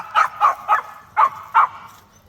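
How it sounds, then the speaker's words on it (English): A dog barks on a walk outside, five sharp, evenly spaced yips close by, each short and clear with quiet gaps between, and no talking. "It's JD harassing someone else's dog while they're trying to have a walk"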